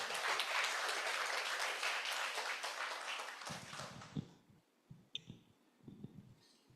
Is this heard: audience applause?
yes